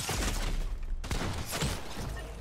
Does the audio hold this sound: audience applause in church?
no